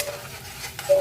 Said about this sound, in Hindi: इसीलिए हम टमाटर का पेस्ट डालकर टमाटर को बढ़िया से भूनेंगे।